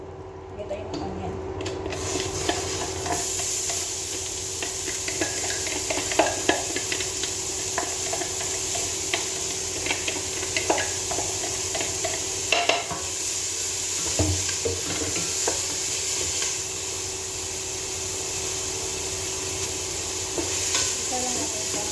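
Onion sautés in a hot pan toward golden brown, a continuous sizzle with intermittent stirring scrapes, close and steady throughout, with occasional faint voice.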